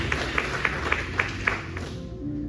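A church congregation claps in a slow, even rhythm, about six distinct claps spaced evenly and moderately close, fading out near the end over a low room murmur.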